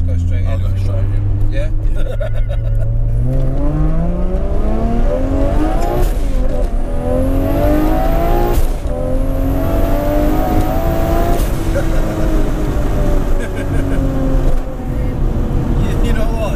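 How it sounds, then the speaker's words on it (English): An 844 bhp Toyota Supra engine roars loudly and close, its pitch climbing steadily as it revs and accelerates hard. People talk over the sustained engine noise. "Supras just make you smile, don't they? It's the lag."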